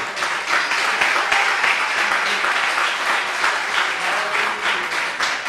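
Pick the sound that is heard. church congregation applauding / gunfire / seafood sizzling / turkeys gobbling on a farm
church congregation applauding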